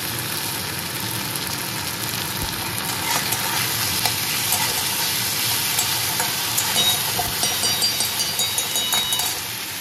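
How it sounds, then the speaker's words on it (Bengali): Onion frying in a pan with a spoon of ginger garlic paste gives a steady close sizzle, with repeated clinks and scrapes of stirring against the pan and no talk. "তাহলে আমি এটা ভেজে নিয়ে আবার আসছি। পেঁয়াজটা বেশ ভাজা ভাজা হয়ে এসছে"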